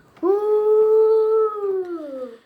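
A toy monster dog lets out a single loud, sustained electronic howl, holding a steady pitch before sliding down and trailing off, clear and close with no talk over it.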